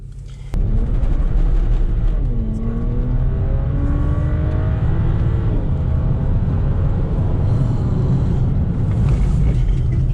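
A BMW car is driven hard around a course with technical switchbacks. The engine starts abruptly and drones loudly and close, rising and falling in pitch through repeated revs and gear changes for about ten seconds.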